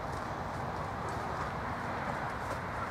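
Horses walking along a canal towpath, hooves clip-clopping in a steady, even rhythm at moderate distance over a broad outdoor background.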